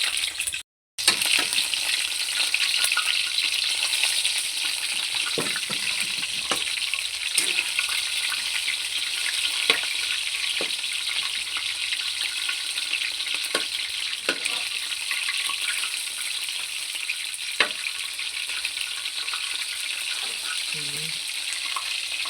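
Chicken heads coated in crispy fry batter fry in hot oil with a continuous close sizzle and crackle, broken by occasional stirring clinks and faint voices in the background.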